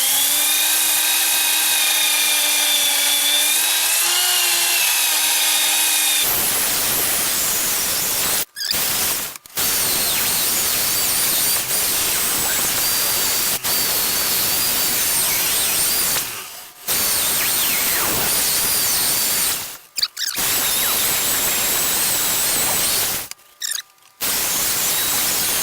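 Workpiece spinning on a woodturning lathe, a steady loud whir that starts partway through, preceded by a humming tone, with several abrupt brief cutouts.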